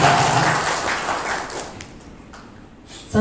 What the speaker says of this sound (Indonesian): Tepuk tangan untuk Kak Ajo.